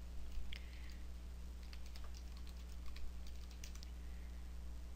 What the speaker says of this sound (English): So type the IP address directly.